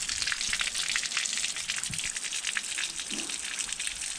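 Water drains through a toilet auto-syphon unit in a steady, close rushing gush with a hissy, spattering texture that holds evenly throughout.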